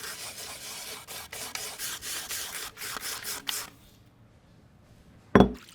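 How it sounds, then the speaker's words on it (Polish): Peeled carrots grated on a hand grater, a rapid run of close, rasping scraping strokes in a steady rhythm, stopping abruptly, followed by a short sharp knock. "Zetrzyj na tarce."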